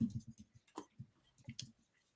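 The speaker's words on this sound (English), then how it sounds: "Sorry, Annie, I can hear you typing" Keyboard keys click in an irregular run of soft, close taps, quiet and unaccompanied by any voices.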